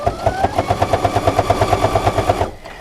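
A Presto sewing machine stitches binding in a fast, steady run of evenly spaced mechanical clicks and thumps. It is close and loud, carries on for about two and a half seconds, then stops abruptly.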